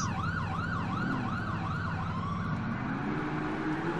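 Ambulance siren wailing in a rapid, regular up-and-down yelp over a steady engine drone, fairly loud and continuous, with the siren fading and dropping lower over the last seconds.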